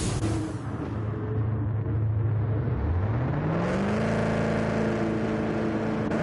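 A car engine in Gran Turismo 7 drones steadily, its pitch dipping as the car slows, then climbing and holding at a higher, louder note, close and continuous with no voices over it.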